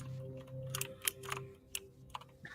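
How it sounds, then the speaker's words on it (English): Quiet, scattered clicks of keys being typed on a keyboard, irregular taps over a low steady hum. "Keyboard smash."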